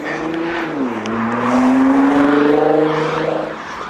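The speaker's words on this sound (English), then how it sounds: "As a Nissan sports car takes the corner." A Nissan sports car takes a corner nearby, its engine note dropping and then rising in pitch as it accelerates through the bend, loud and close, with no other sound over it.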